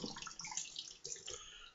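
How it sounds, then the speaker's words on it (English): Tap water runs steadily into a sink for a cold rinse after a shave, a close, hissing splash with small shifts as hands move through the stream. "Cold water rinse"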